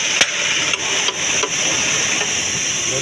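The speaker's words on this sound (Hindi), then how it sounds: "आप नक्कल पे चोट मारते हैं रबर की मदद से" A rubber mallet strikes the steering knuckle of a Maruti Wagon R during steering rack repair: four sharp, separate knocks, the first loudest, over a constant hissing workshop background with no talking.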